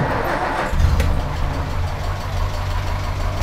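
A restored 1953 Mini with its original engine, distributor and radiator idles steadily and quietly, a low even engine hum running throughout with a slight swell near the start.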